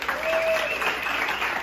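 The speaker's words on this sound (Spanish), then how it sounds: "¡Aplauso a Dominicana!" Audience applause for the Dominican Republic rings out at a live comedy show, a steady wash of clapping and crowd noise lasting under two seconds.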